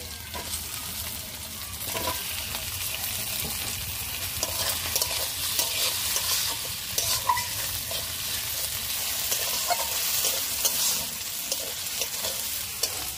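Chopped tomato and a ground fennel and cumin paste sizzle and fry in a pan for a bhetki fish dish, a steady close hiss with frequent stirring scrapes and no talk.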